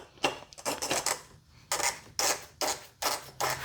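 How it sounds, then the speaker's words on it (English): A new plastic oil filter cartridge on a Volkswagen is slid into its housing in a series of short scraping, rubbing strokes and clicks, close and separated by brief pauses. "We're gonna take our new filter, slide it in, click it into place, and reinstall it onto the housing."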